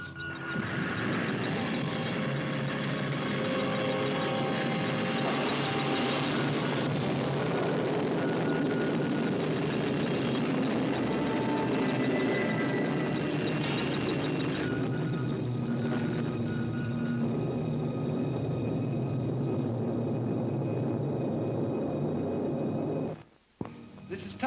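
A rocket engine in a 1959 sci-fi film gives off a dense, steady roar with tonal drones. It stays loud and unbroken for over twenty seconds, then cuts off abruptly near the end.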